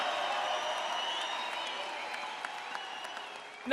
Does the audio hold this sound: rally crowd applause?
yes